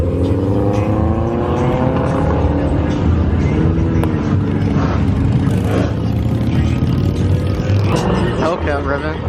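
A modified Subaru revs and pulls away from a car meet, its engine note rising and falling under a crowd of voices and other idling cars, with people talking throughout.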